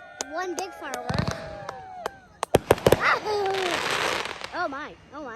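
Fourth of July fireworks go off in a rapid cluster of sharp bangs and crackles, followed by a sustained fizzing burst, with excited voices talking over and around the explosions.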